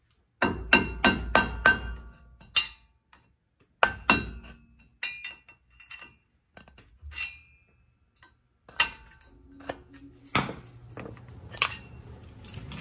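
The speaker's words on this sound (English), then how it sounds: "First thing we gotta do is get this cap off." A hammer strikes the cap on a CV axle in a home garage repair. The taps are sharp and metallic and come in quick clusters, with quieter clinks and pauses between them.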